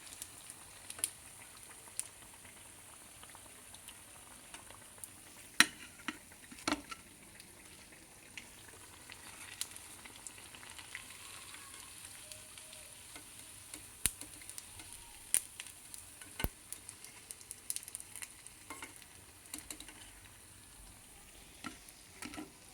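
Sabudana vadas fry in hot oil with a steady, soft sizzle and bubbling, punctuated by occasional sharp crackles and pops, close up and alone, without speech.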